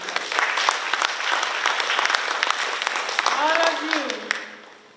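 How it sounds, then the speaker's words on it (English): A graduation ceremony audience applauds the instructors with a full, sustained round of clapping, a voice rising briefly over it near the end before the applause dies away. "let's give another round of applause to our instructors"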